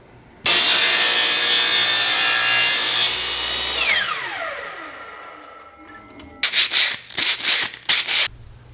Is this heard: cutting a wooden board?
yes